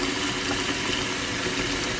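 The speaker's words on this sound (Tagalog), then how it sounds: "tubig guys, tubig" Steady rush of running water over freshly harvested produce being washed, a continuous close broadband splashing flow without pauses, fairly loud and alone.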